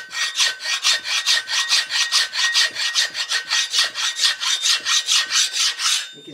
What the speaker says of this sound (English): So I'm going to spend a while with this old file.